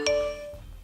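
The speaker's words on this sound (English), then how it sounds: "They even improved the original tritone from this" The original iPhone tri-tone text alert sounds once, three quick bright chime notes ringing out near and clear, then fading away into quiet.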